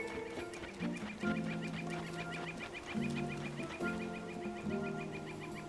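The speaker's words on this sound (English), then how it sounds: "I hear a bird" Ambient birdsong in the video game Tears of the Kingdom: repeated bright chirps and honking, clucking calls in an uneven rhythm, fairly faint and alone, with no voices over it.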